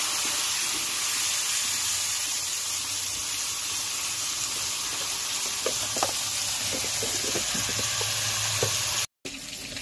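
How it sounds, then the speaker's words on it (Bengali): Pieces of bhola fish and potato fry in hot oil with salt and turmeric, giving a steady, close, dense sizzle that runs throughout with occasional small pops and a brief dropout near the end. "লবণ হলুদ দিয়ে মাছ আলুটাকে ভেজে নেবো"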